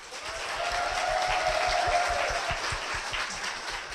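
Applause from a church congregation welcoming a pastor's wife to the stage, steady and sustained clapping filling the room, with a faint sung or hummed tone and low rhythmic thumps underneath.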